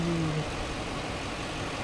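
A Lexus GX 470 engine idles quietly and evenly, a soft, steady low hum with a brief tonal sound at the start.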